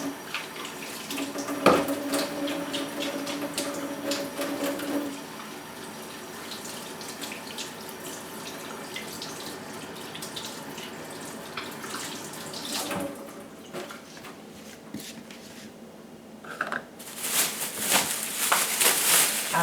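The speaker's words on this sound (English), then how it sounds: "let me just wash my hands." A tap runs steadily into a sink as hands are washed in a home kitchen before a sourdough starter is mixed. The water is heard close up, with faint clatter and small shifts in the flow.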